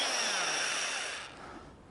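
A Black & Decker power drill, American-made, whirs steadily at close range for a second or so, then its pitch drops and the sound thins out as the motor winds down.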